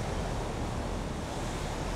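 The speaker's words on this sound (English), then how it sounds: "The spray that's coming off that waterfall is mental." Steady broadband rushing roar of heavy spray blowing off a waterfall in wild rocky terrain, continuous and loud with no breaks and no talk.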